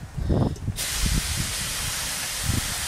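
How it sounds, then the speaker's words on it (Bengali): Kolai greens frying in a wok: a loud, steady sizzle bursts in suddenly and keeps going, with a few low knocks and murmurs underneath. "এবার কড়াই শাকটা ভেজে নিলেই হয়ে যাবে।"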